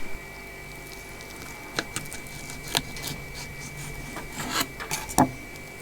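A knife trims a sea bass fillet up close, making soft scraping and rasping strokes with a few sharper scrapes toward the end.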